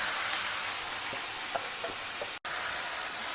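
Grated raw mango hits hot oil with mustard seeds and turmeric in a kadai, producing an even, close frying hiss with a few faint soft taps and a momentary dropout near the middle.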